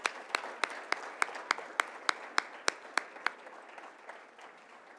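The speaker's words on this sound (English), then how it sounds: "All from East High, let's give them a nice round of applause." Applause for East High students at a Hispanic Heritage Month celebration: a run of distinct, evenly spaced claps, fairly quiet and roomy, tapering off toward the end.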